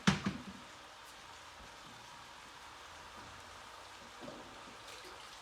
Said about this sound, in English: grab my colander. There we go. Give it a nice little rinse just to cool it off.